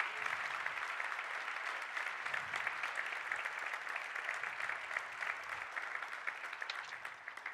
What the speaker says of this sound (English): Final round of applause to recognize the good work done this morning